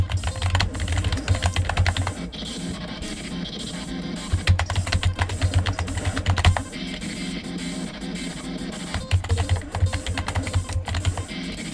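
Rapid clicking of computer keyboard arrow keys pressed during a rhythm video game, a dense, steady run of close keystrokes over thumping game music.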